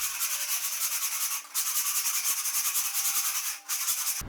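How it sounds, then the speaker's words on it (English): Scraper dragged low across a garage floor, stripping loose coating ahead of a polyaspartic finish: a loud, continuous rasping scrape in two long strokes with brief breaks, close by and alone. "one of the things to pay attention to is just keep that scraper low and scrape."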